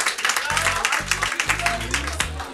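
A crowd at a quiz night claps steadily with dense, continuous applause while a low voice talks over it.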